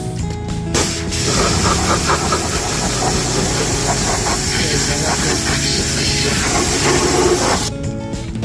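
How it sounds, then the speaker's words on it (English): Degreased car trim being rinsed with a hissing pressurized water spray that runs loud and steady for about seven seconds, then cuts off, with brief quiet gaps at the start and end. "Go ahead and rinse that."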